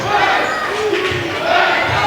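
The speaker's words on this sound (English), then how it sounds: "And the Auburndale crowd erupts with the first points of the game" Basketball crowd at an Auburndale versus Edgar boys regional final erupting in a sustained roar after a three-pointer, loud and steady for about two seconds with shouting voices mixed in.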